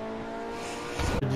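An Invetero Coquette D10 sports car in a video game accelerates with a steady, fairly loud engine drone that swells and briefly gaps near the end.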